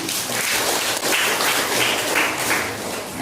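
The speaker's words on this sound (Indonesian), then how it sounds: "Kita tepuk tangan dulu" An audience at a village aid handover ceremony applauds, a dense, steady wash of clapping that holds at an even level for the full stretch with no voices above it.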